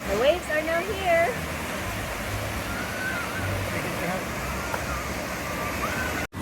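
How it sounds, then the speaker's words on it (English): Waves rolling in at a waterpark wave pool, a steady broad wash of surging water and crowd noise with a voice briefly rising over it at the start. "This is the wave pool. The waves are starting to come in still."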